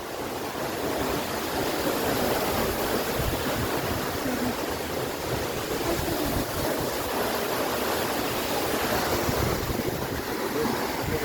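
Mohini waterfall at Kulekhani, Markhu, roars as a dense, unbroken rush of falling water heard from close by, steady and loud throughout with no speech.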